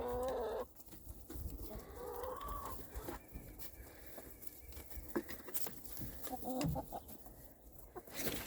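Rocky, a pet rooster in a backyard chicken coop on a winter morning, clucks in short, scattered bursts, fairly faint against a low background hum.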